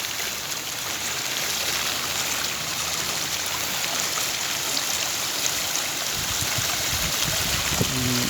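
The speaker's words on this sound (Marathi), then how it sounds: "पाण्यामध्ये भवरा आहे छोटासा" A small whirlpool forming in a flowing monsoon stream, heard as steady, close rushing and gurgling water with a faint thump near the end.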